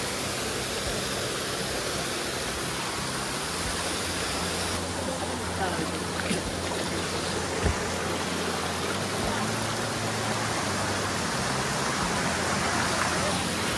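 Water from a hidden hot-spring waterfall in the Konkan hills during the monsoon pours in a steady, broadband rush, constant and fairly close, with a voice speaking over it briefly.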